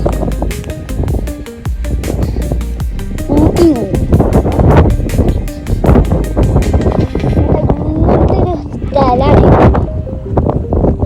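Strong wind buffeting the microphone at a hilltop viewpoint in Attappadi amid light drizzle and cold, loud continuous gusting roar with people talking over it.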